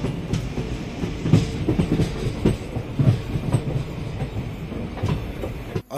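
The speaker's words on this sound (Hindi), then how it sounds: "हमारा जो लोको है वो राइट की तरफ मुड़ रहा है" A locomotive-hauled passenger train runs off the Moradabad–Delhi main line and turns right onto the Bijnor branch, with steady rumble and repeated clickety-clack of wheels over rail joints, heard loud and close.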